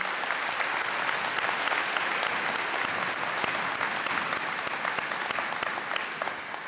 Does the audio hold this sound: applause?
yes